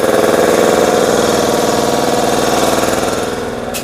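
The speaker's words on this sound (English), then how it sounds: "Let's see what that compressor settled down to." Air compressor running loudly up close, a fast pulsing mechanical chug that stays steady, then slowly fades slightly toward the end.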